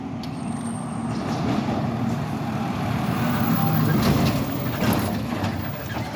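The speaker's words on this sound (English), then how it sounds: "Here comes the first tow truck." A tow truck rolls up to a motor vehicle accident on Washington Street in Boston, its engine a steady heavy rumble amid traffic noise throughout.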